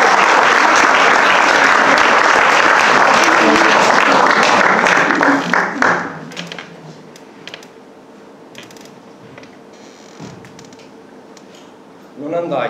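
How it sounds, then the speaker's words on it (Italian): A theater audience applauds loudly for about six seconds, a dense close wash of clapping that fades to scattered claps and quiet room noise, with a few voices near the end. "Applauso,"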